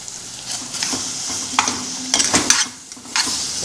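Onions going into a pot with meat broth for a Brazilian pot roast sizzle and hiss steadily, with scattered scrapes and clinks of stirring rising now and then over a constant frying crackle.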